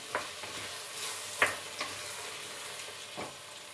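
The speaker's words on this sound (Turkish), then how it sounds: "İlk öncelikle şöyle güzelce bir karıştıralım" Green bean stew with potatoes stirred in a pot, a soft scraping swirl over a steady low sizzle with a few faint knocks of the spoon against the side.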